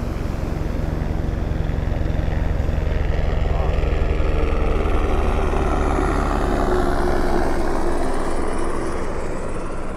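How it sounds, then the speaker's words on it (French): A helicopter passes overhead outdoors, a steady low rotor drone that holds loud and even for the whole stretch before thinning slightly near the end. "Oh, il y a un hélicoptère."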